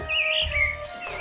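Lovebirds at Mysore Zoo chirp in a short run of high, thin whistling tweets, fairly close and alone with no talk.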